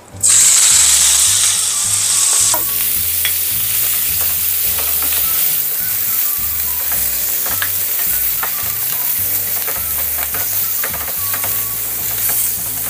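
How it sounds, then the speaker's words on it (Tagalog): Ground beef sizzles steadily in a hot pan for taco filling, with repeated scraping and stirring strokes and a low rhythmic background hum throughout, loud and close. "ang next na gagawin natin ay i-brown natin yung ating ground beef"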